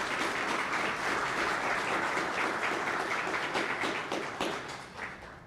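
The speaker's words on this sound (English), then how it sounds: "Let's have a round of applause to show our appreciation" Audience applause for the panelists at a cybersecurity forum in Mississauga: a dense, steady wash of many hands clapping, loud and continuous before thinning and fading toward the end.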